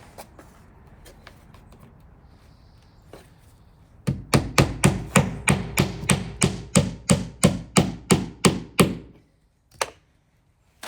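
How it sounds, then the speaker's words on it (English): Hammer driving nails into cedar shingles on a shed wall: a steady run of about fifteen sharp, close, evenly spaced knocks after a quieter stretch of faint handling noise, then stopping. "You don't want to smack this too hard with the hammer."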